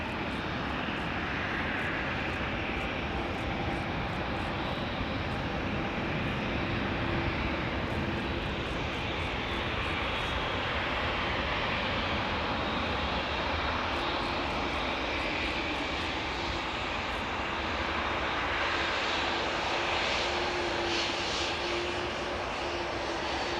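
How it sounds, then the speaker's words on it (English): A Boeing 787-9 Dreamliner arriving from Austin, Texas, at Amsterdam Schiphol Airport gives a loud, continuous jet engine roar that stays steady and close throughout. "The 7879 Dreamliner that is arriving from Austin, Texas."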